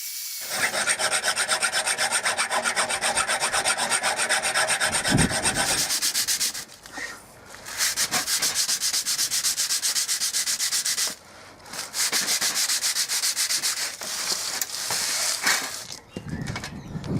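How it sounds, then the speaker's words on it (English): Hand sanding and filing across a repaired steel trailer hitch, close and loud, a continuous rasping scrub in long steady runs broken by brief pauses, with no talking. "Just take all the raised areas off and then file it back with a file."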